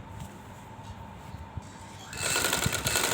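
Sewing machine stitching a second seam along a marked line, a faint low whirring hum that swells louder and brighter for the final second.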